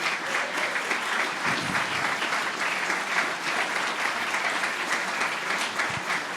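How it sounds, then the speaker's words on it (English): At a dinner event, a large audience applauds honoured guests, a thick continuous wash of clapping held at a steady level throughout, fairly loud and full, without any speech over it. "let's give you guys a big round of applause"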